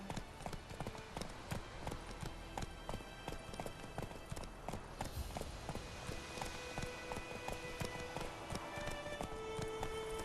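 Roach the horse gallops in the video game The Witcher 3, a steady, quick clip-clop of hooves throughout with light background sound and faint game tones near the end.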